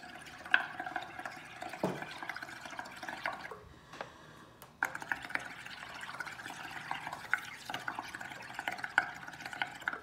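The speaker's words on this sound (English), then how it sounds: "You can start very gently blowing into your straw." Bubbling from a straw blown gently into a bowl of bubble solution, a close, soft stream of gurgles and small pops running for several seconds with one brief pause midway.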